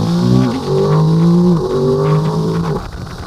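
Ducati DesertX motorcycle engine revved in a few quick blips, the tone rising and falling sharply each time, close and loud before settling toward idle.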